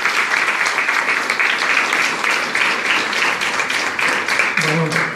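Loud audience applause greets a maestro at an education talk, with steady dense clapping throughout and a voice starting to speak over it just at the end.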